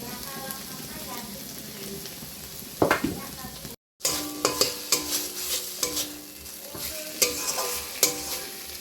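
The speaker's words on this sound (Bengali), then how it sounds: "মশলাটা প্রায় কষানো হয়ে গেছে" Spice masala with tomato sizzles in a pan for soybean curry, with repeated scraping stirs and clattering spoon strokes over a steady frying hiss, close and loud, broken by a brief silent gap.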